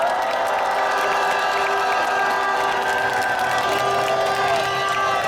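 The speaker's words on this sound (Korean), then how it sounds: "이재명 대표님께 응원의 박수 한번 보내주시기 바랍니다." A large outdoor rally crowd in Korea, gathered to demand a halt to the ocean dumping of Japan's radioactive wastewater, claps and cheers steadily and loudly throughout, with shouts rising over the dense, continuous applause.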